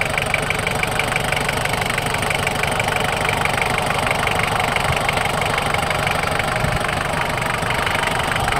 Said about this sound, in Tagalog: Ayan, Sir Gary, umandar na yung Toyota L mo. Ganda na ng andar